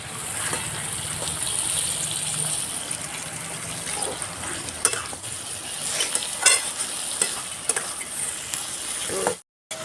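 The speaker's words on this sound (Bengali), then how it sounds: "সস দিয়ে ভালো করে কষানো হয়ে গেছে" Vegetables for egg chowmein stir-fry in a pan with vinegar and soy sauce, giving a close, steady sizzle broken by scraping and stirring clatters before it cuts off abruptly near the end.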